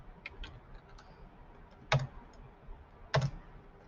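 Soft, sparse keystrokes on a computer keyboard, a few light taps followed by two sharper, louder key presses, faint and close with no talking.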